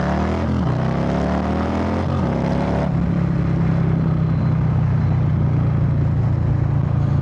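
A 2022 Harley-Davidson Low Rider S motorcycle engine revs hard and accelerates, a loud, close, rising roar that settles into a dense, sustained rumble, with no voices.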